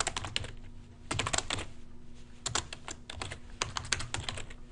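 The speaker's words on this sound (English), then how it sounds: "here you literally just start typing" Typing on a computer keyboard, quick bursts of close, crisp key clicks separated by short pauses, alone over a faint steady hum.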